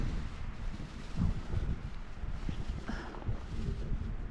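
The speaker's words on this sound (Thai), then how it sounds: "ลมก็พัดนะ" Forest wind gusts across the microphone on a solo walk through the woods while mushrooms are gathered, a rough, buffeting rumble that swells and eases with faint rustling and no talking.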